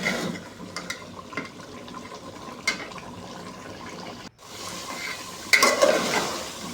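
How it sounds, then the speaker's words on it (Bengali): Beef bhuna curry being stirred in a pot, with a spoon scraping and clinking against the metal over a low sizzle, in irregular close strokes, plus a brief pause and a louder clatter near the end. "তারপরে আবারও ঢাকনা করে নাড়াচাড়া করে দিচ্ছি"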